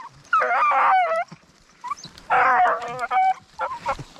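Beagle hunting dogs on a rabbit hunt in rough cover give two bursts of excited, yelping barks and whimpers, close and loud, separated by brief pauses with softer yips in between.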